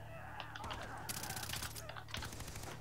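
Gunfire in the video game Far Cry 3: dense rattling bursts of automatic shots crackle through a busy, noisy mix at low level, with a voice talking over them.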